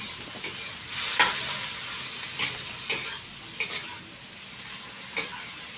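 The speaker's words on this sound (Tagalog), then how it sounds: "halo-halo muna para maging masarap ang ating lutuin" Food sizzles steadily in a frying pan while a utensil stirs it, giving scattered scraping and clinking strokes over the continuous hiss, close by with no voices.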